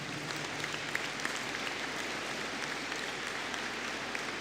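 At a business and hospitality graduation ceremony, an audience claps for the Master of Science in Data Analytics graduates, an even, continuous wash of applause filling the hall, with no voices over it.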